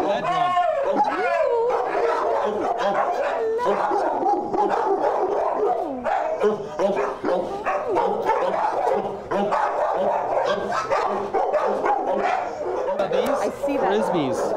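Several shelter dogs at the York County SPCA bark, yip and howl almost nonstop, a dense, echoing chorus near and far, with people talking throughout.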